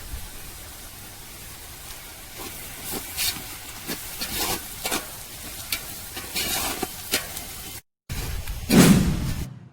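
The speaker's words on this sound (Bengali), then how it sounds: "পেঁয়াজ ভাজা হয়ে গেছে হালকা।" Onions with spices stir-fry in a pan, a close, bright sizzle broken by repeated scraping strokes of a spatula, a brief silent gap near the end, then louder stirring with a dull knock.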